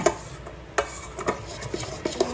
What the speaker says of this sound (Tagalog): haluin mo pa siya